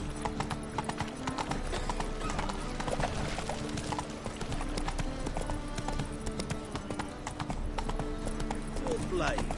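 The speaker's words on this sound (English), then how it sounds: "God, it's a racehorse." Racehorse hooves clip-clop steadily in a PS4 video game, a continuous rhythmic patter with game music and background sounds, and a brief whinny-like cry near the end.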